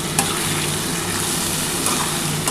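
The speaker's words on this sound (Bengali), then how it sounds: "এবার ভালো করে কিন্তু একটু নাড়াচাড়া করতে হবে।" Steady, dense sizzling of spices and potatoes frying with onions in a hot pan, with faint scraping as it's stirred; continuous and close, no voices.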